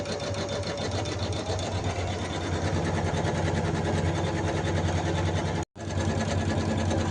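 A computerized embroidery machine stitches steadily at 600 stitches per minute, a loud continuous whirring hum with a fast needle rhythm that runs throughout, cut by one brief pause near the end.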